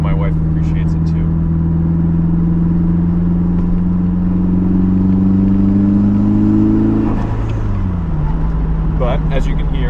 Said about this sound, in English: as you can hear, the car still sounds really good